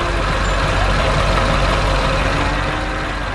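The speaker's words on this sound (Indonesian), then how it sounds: "ada mesin konstruksi kuning yang sedang bekerja keras dengan semangat yang luar biasa" A yellow construction machine works hard in a forest. A loud, steady engine roar rumbles continuously from start to finish, thick and unbroken, with no voices.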